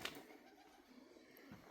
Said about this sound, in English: Tons of birds in here